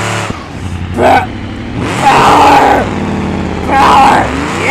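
A car engine in the BeamNG driving game revs hard in two loud surges, dropping to a lower idle-like drone between them, with broad rough roar throughout.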